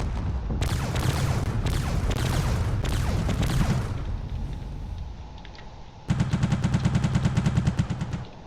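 Fighters fire in a space combat video game: rapid machine-gun bursts rattle loudly and steadily, a brief lull follows, then a sharper, evenly spaced volley of shots hammers close in the foreground.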